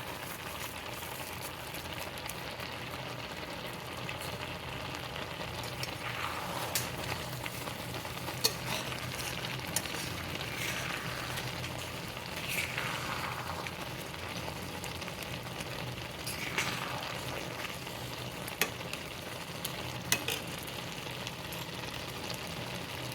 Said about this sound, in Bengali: এক মুঠো চিড়েটা শুকনো খোলায় ভাজা, এক মুঠো চিড়ে দিয়ে দিলাম।